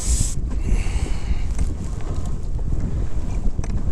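Strong wind buffets the microphone on a lake during winter kayak fishing at Pine Flat Lake, a constant low roaring rumble with faint water and boat knocks, close and steady with no talk.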